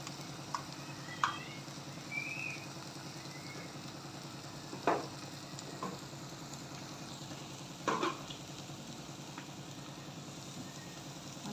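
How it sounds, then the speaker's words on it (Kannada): Coconut masala frying in a pan for an egg masala curry, with a steady low sizzle throughout and a few sharp spoon scrapes and stirring knocks at intervals. "ಇದು ಚೆನ್ನಾಗಿ ಫ್ರೈ ಆಗಬೇಕು."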